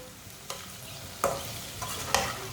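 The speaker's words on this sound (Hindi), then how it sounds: "1 चमची पिसी हुई लाल मिर्च, 1 चमची हल्दी पाउडर। 1 मिनट के लिए पका लेंगे मसालों को।" Ground red chilli and turmeric powder cooking in a pan for an egg and okra dish, a low sizzle broken by three or four sharp scraping stirs, close with no one speaking.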